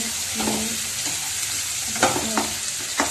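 Vegetables being stirred in a pan for pulao, a steady sizzle under repeated scraping and tapping strokes of a spoon against the pan, several clear knocks toward the end.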